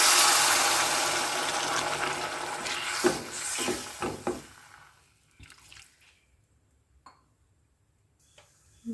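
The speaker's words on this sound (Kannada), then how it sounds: "ಇದಕ್ಕೆ ಒಂದು ಕಾಲು ಕಪ್ ಆಗೋಷ್ಟು ನೀರನ್ನ ಹಾಕ್ತಾ ಇದ್ದೀನಿ" About a quarter cup of water is poured onto softened cooked tomatoes in a pan for poha, making a splashing, hissing rush that fades after a few seconds into quiet with a few light ticks.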